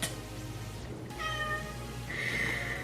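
A pet cat meows loudly and close by, two or three drawn-out, rising calls with short gaps between them, and no voices over them.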